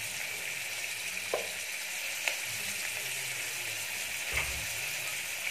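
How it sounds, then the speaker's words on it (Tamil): Cashews and poppy seeds frying in hot tempering oil for a kurma, a steady close sizzle with a few soft clicks and taps from stirring. "அப்படியே தாளிச்சுட்டுக்கோங்க, நல்லா தாளிச்சுட்டுக்கோங்க ஃப்ரெண்ட்ஸ்"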